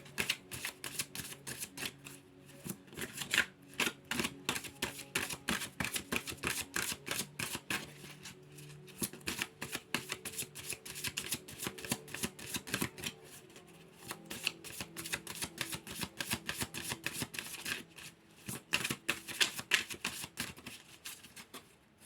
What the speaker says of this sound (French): Donc je vais tirer une carte pour les célibataires et une carte pour les couples.